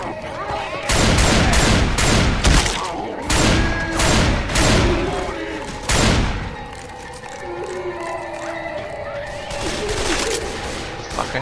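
Dense bursts of gunfire and explosions on an expert-difficulty boathouse finale of the video game Left 4 Dead 2, loud and close, with rapid overlapping shots, booms and players talking over the action.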